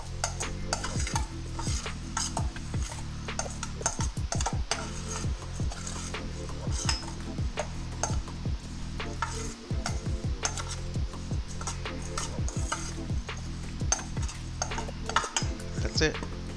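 Dried herbs and spices for homemade Italian seasoning are stirred together in a bowl, a continuous close scraping and rustling with repeated clinks of a utensil against the bowl in an uneven rhythm.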